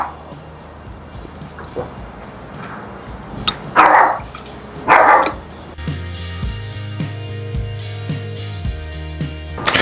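Dogs barking outdoors, a few sharp loud barks clustered early on, then scattered fainter yips under a voice talking and a low steady hum.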